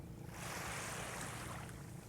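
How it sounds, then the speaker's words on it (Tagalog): Small morning ocean waves wash steadily onto a beach, a continuous soft surf roar with a slight wind-like hiss and no clear breaks. "Ngayong umaga medyo may alon ng konti."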